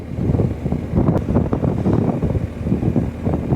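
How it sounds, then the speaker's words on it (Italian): Strong, steady wind in the Po Delta buffets the microphone in a continuous rumbling roar, with gusts swelling and easing throughout. "abbastanza vento."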